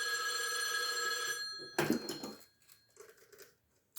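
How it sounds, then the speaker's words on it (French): A telephone bell rings loudly in an office, a sustained ringing that stops partway through, followed by a few brief handling and pickup noises. "il y a le téléphone qui sonne"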